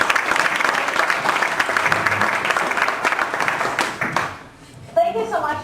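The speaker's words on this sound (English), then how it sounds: "Give her a round of applause, folks." Audience applause from a crowd at a community presentation, steady and dense for about four seconds before fading out as a voice begins speaking.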